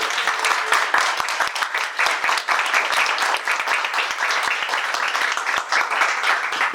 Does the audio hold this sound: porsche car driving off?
no